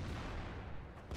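An artillery shot in World of Tanks gives a dense, rumbling boom that fills the whole short moment, with no one talking.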